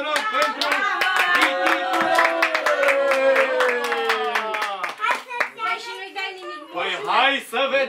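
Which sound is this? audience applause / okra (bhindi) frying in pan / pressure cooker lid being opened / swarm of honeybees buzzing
audience applause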